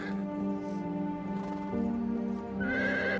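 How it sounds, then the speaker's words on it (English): Gondor cavalry horses in a large Lord of the Rings siege battle game neigh and whinny loudly and up close, several overlapping calls with a shrill high whinny near the end. "their horses pawing at the ground as they await the call"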